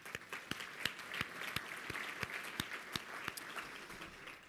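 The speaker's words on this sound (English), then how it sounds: "So let's have a round of applause for the Department of Labor for this video." Sparse, quiet applause at a policy meeting, a small group clapping with distinct individual claps standing out over a soft, steady patter, heard faintly at a distance.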